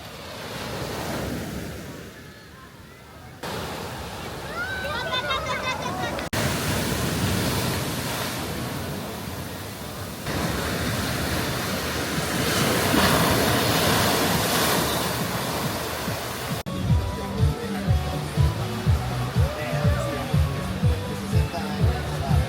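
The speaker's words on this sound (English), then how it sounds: "we checked out another famous beach, Playa Manzanillo, a much more friendly place for swimming and enjoying the beautiful scenery." Ocean waves wash in at Playa Manzanillo beach in Puerto Escondido, Oaxaca, a broad steady surf roar mixed with wind buffeting the microphone, with a few sharp knocks near the end.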